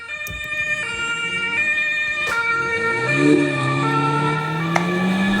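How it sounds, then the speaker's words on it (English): A German emergency vehicle's two-tone siren alternates high and low pitches, with traffic noise and a vehicle rumbling nearby. "this is the sound that you hear for emergency services in Germany."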